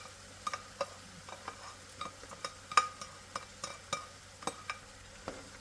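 Spam sautéing in a pan for Singaporean fried rice, soft frying sizzle broken up by a steady run of sharp spatula scrapes and taps, close and fairly quiet, with no voices.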